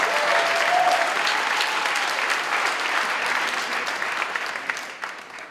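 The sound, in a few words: audience applause for award winners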